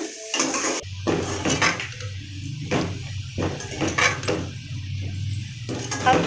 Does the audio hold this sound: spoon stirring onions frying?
yes